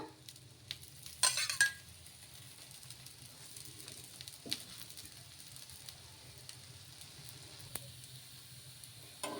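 Moong dal and oats dosa batter frying in oil on a hot pan gives a faint, steady, soft sizzle throughout, with a brief clatter near the start.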